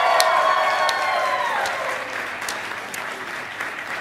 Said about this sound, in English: if we could have a special round of applause for Shannon Tweed, the director of the program